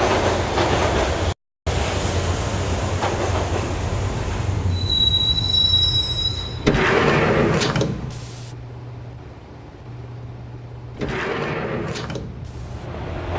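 A subway train carries a rider toward Roscoe Street Station in the Max Payne video game, its carriage rumbling while the wheels squeal sharply on the rails, with a brief dropout and the noise swelling and easing over time.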